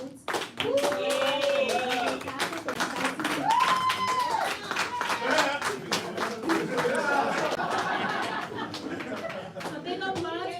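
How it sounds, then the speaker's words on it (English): Family, friends and staff at a media school graduation clap for the new graduates in a sharp, uneven burst, with individual claps standing out and whoops and chatter rising through it. "A big applause for our new graduates at Miami Media"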